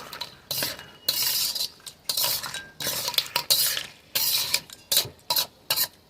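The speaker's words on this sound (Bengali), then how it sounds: "মশলাগুলো কাঁকড়ার ভেতরে ভালো করে ঢোকা পর্যন্ত আমরা কষিয়ে নেব।" Spiced crab curry, kakra kosha, being stirred in a pan, giving repeated scraping and clattering strokes of a utensil against the metal in uneven bursts with short gaps, close and loud, with a light sizzle underneath.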